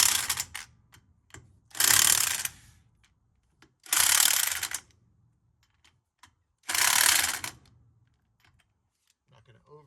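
A ratchet clicks in three bursts while tightening a bolt on a 1966 International Harvester 1100A tractor, with quieter single clicks and handling noises in between; close and fairly loud, no speech.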